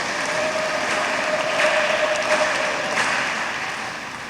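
Congregation applauding two nuns at a 25-year religious jubilee celebration; dense, even clapping from a sizable crowd, swelling slightly in the middle then easing off, with no talking over it.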